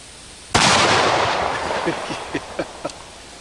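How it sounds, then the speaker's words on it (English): A single loud close black powder .50 caliber gunshot, a sharp boom followed by a long rolling echo that decays over about three seconds, with a few faint trailing thuds. "it's an awful lot of fun shooting this black powder 50"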